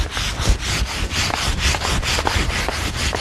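Hand sanding a wooden staircase with the grain, loud close rhythmic rasping strokes repeating about three times a second, steady and without talk.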